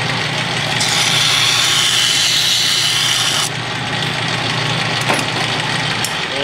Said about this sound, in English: So let's deburr that.